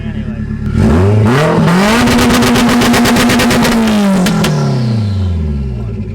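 Subaru STI with a stock-location turbo revs hard through a burnout launch, engine pitch climbing, holding high, then falling away, loud and close throughout with tire clatter.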